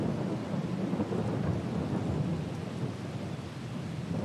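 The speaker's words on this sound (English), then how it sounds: "I haven't looked to see how long this rain is going to last" Rain and rolling thunder in Farming Simulator 22 on the Elmcreek map: a steady, dense wash of rainfall under a low, continuous rumble, heard alone at moderate volume with no talking.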